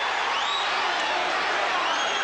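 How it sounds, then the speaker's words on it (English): Arena crowd at a heavyweight boxing match between Holyfield and Quick Tillis roars steadily as round 3 begins, a dense, sustained wash of cheering and whoops from a large audience, with no distinct voices standing out. "Round 3, and this crowd is revved up"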